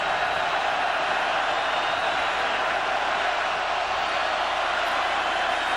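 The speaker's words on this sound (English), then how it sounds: "Crowd comes to life as Miami's going to scrimmage very deep in their own territory." Football stadium crowd roaring steadily throughout at a 2003 Miami versus Virginia Tech college game, a dense, continuous wash of cheering that holds at a constant level with no breaks or swells.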